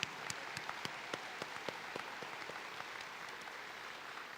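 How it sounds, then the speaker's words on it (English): Faint, distant applause from an audience at a high school graduation ceremony honoring faculty and staff, a steady wash of clapping with a few sharper individual claps standing out. "Please join me in applauding the incredible faculty and staff of Colonel Gray."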